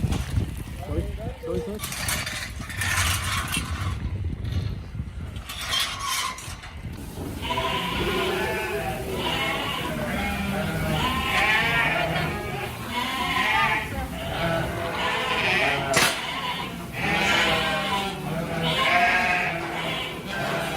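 Scottish Blackface sheep penned indoors overnight bleat repeatedly, several animals calling at irregular intervals, some close and loud, mixed with people talking nearby.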